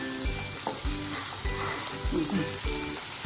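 Spring onion is stir-fried for gobi manchurian, giving a soft sizzle broken by rhythmic stirring strokes from a spoon against the pan, fairly close and alone.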